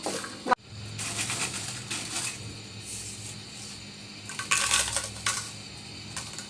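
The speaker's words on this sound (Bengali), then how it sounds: "আমি প্রথমে একটু মাঝারি মাঝারি আঁচের মধ্যে বেজে নেড়ে নেড়ে বেজেছিলাম এখন আবার হাই ফ্লেমে বেজে নিচ্ছি" Jackfruit seeds roast over high flame in a metal pan, stirred with scraping, rattling clicks and a sharp knock near the start, close and moderately loud with no talking.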